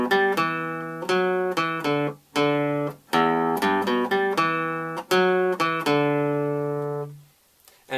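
Electric guitar plays the intro riff of a song: a clean, close, rhythmic run of punchy single notes with short gaps, the final note ringing out before silence, no talking.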